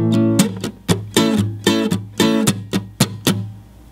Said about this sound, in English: So what I've done is applied one of my favorite percussive strumming patterns.